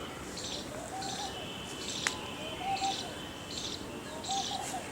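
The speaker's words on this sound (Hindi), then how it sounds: "नहीं, कबूतर नहीं, पेड़की है। इनकी आवाज़ अलग होती है।" A dove perched on a rooftop in a Raebareli garden gives soft, repeated coos. The calls come in a slow, regular rhythm over faint background hiss and are heard from a moderate distance.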